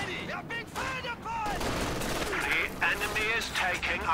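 Dushka heavy machine gun bursts rattle through a Company of Heroes 2 battle, several staccato volleys mixed with other game effects and a commentator talking over the fire.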